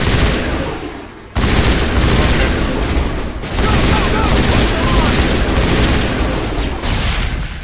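Loud, dense bursts of gunfire in the sci-fi game Mass Effect Legendary Edition fill the scene almost continuously, broken by a brief drop in the middle, with voices mixed in.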